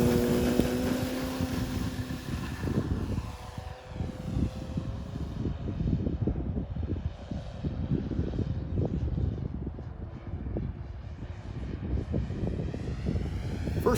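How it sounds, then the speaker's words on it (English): A Hangar 9 J-3 Cub 10cc electric RC airplane flies overhead, its motor and propeller a steady, fluctuating whir that swells and fades as it passes, with outdoor wind noise throughout and no talking. "I'm going to do a little flight demonstration for you of some scale-like Cub aerobatics"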